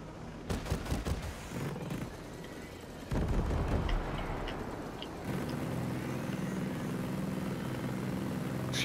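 Helicopter and gunfire in the video game Ghost Recon Breakpoint: rapid bursts of gunshots early on, then heavy blasts and a steady rotor-like engine drone continuing loudly to the end.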